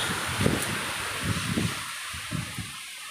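Strong wind gusts outdoors while rubbish burns in Jenar Lor, Purworejo, Java, rumbling in uneven low bursts across a steady broadband hiss, fairly close to the microphone.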